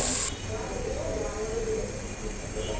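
Vegetables are tipped into a pan of frying lentils, already fried with peanuts, while khichuri is being made. A sharp burst of sizzle settles into a steady, even hiss close by.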